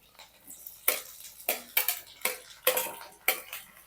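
Potato pieces tossed with chillies in a hot pan, heard as sharp metallic scrapes and clanks of a spatula at a regular rhythm, about six distinct strikes against a faint background sizzle.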